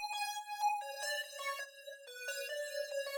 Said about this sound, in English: Then I used this lead from Serum and I put down sort of like a counter melody